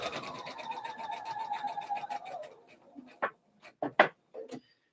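A sewing machine stitches down the split seam of a slip dress in a steady, fast run of needle strokes that stops halfway, followed by a few scattered handling knocks and rustles of fabric.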